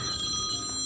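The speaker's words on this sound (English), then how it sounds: "I gotta answer my phone" A telephone rings briefly with a bright electronic tone over faint background hiss.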